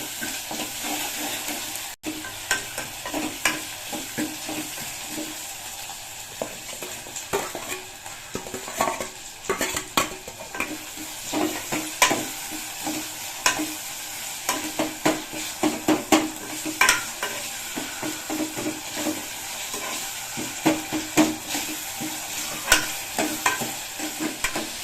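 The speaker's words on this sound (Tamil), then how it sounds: "இந்த இடிச்ச கருவேப்பிலை, வெங்காயம் இதெல்லாம் போட்டு நல்லா வதங்கினதுக்கப்புறம் தக்காளி சேர்த்துக்கலாம்." Onions and crushed curry leaves sautéing in a pan for Tamil fish kuzhambu, a continuous close sizzle broken by frequent scraping stirs and light utensil clatter against the pan throughout, with no talking.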